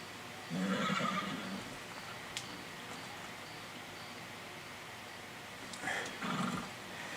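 A horse in Red Dead Redemption 2 gives a drawn-out whinny, then a second neigh several seconds later. Both calls are moderately loud with a quiet stretch between them.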